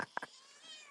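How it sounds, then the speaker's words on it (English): A small wild barn cat gives a few short, faint meows close by in a quiet barn, with a faint whine lingering afterward. "the little wild barn cat. He is kind of loud, this one."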